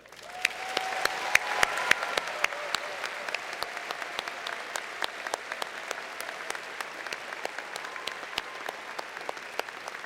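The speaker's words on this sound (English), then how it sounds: "And now you can join me in a round of applause." Applause from a university spring commencement audience fills the whole stretch, steady and dense with sharp individual claps standing out, while a voice drifts faintly underneath early on.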